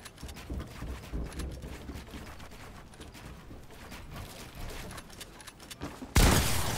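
Gunfire in a 1v1 video game match, heard as a low, continuous rumble of rapid shots at moderate loudness, ending in a sudden loud burst at the close.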